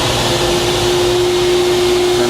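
Dust vacuum on a rotary blade sharpener roars at a steady loud level with a constant whining tone, nothing else over it.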